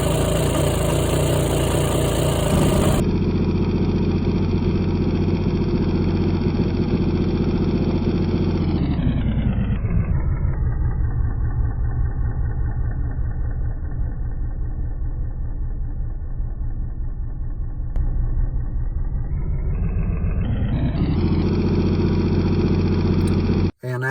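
A rebuilt Polaris Genesis engine runs steadily after its first crank following long disuse, loud and close throughout, dropping from a high rev to a lower idle in the middle and then climbing back up before cutting off abruptly.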